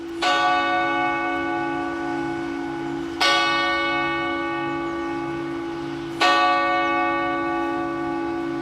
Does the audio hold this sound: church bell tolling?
yes